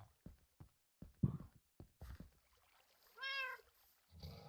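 A cat in the Minecraft video game gives a single clear meow after a series of soft thudding steps, close and alone with no talking.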